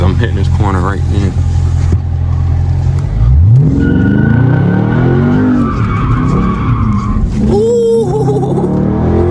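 A Dodge Charger Scat Pack slides through a corner with loud, drawn-out tire squeal over a roaring engine, heard from inside the car with a voice speaking over it.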